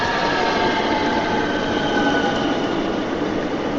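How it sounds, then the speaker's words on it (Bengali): A continuous loud roar of an express train passing close by, with a faint high squeal from the wheels. "এক্সপ্রেস একটা ট্রেন আসার আওয়াজে ঘুমটা দিয়েছে"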